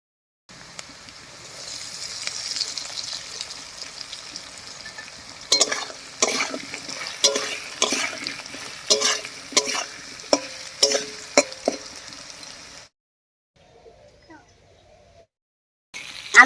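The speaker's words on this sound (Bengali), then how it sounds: "আলুগুলো হলুদ লবণ দিয়ে হালকা ভাজা ভাজা মতো করে নিয়েছি" Potatoes fry in a pan with turmeric and salt, giving a soft sizzle while a spatula stirs and scrapes in a run of sharp knocks. The sound then drops to near silence.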